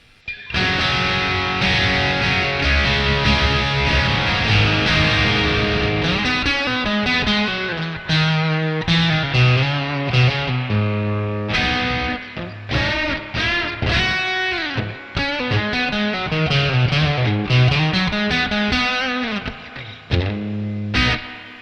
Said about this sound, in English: This would be my choice if I wanted to have a big reverb.